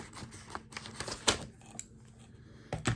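Scissors snip and crunch at a packaged keto pumpkin treat, a few sharp bursts of cutting and rustling close by, with brief quiet gaps between efforts.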